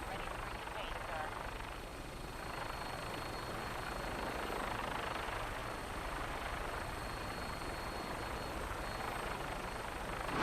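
An aircraft takes off in the Fallout 4 video game, giving a loud, steady rotor-and-engine roar that holds unbroken from start to finish with only slight swells in level.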